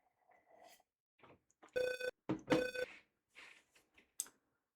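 Digitized telephone in the video game Maniac Mansion rings in two loud, buzzy bursts amid sparse quiet game sounds and a brief high chime at the end.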